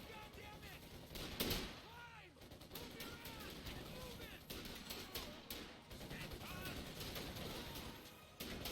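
Bursts of rifle gunfire from a video game, punchy and bass-heavy, firing in quick succession under a constant layer of chatter and action noise.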